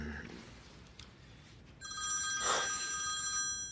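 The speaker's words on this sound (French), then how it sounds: "Ton téléphone sonne." A telephone bell starts ringing partway through, a bright electronic ringtone repeating steadily and fairly close, after a quiet stretch with faint room noise.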